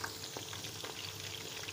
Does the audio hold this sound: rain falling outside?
no